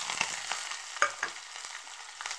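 Curry leaves, green chili and onion sizzling in a hot pan, a light crackling fry broken by a few sharp stirring clinks and scrapes, no voices.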